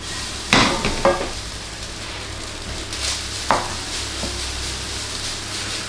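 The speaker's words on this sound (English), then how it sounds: "Fried rice soundtrack." Fried rice, Singapore style, stir-frying in a pan: a continuous close sizzle broken by a few sharp scrapes and knocks of a spoon pressing and tossing the rice. No one speaks.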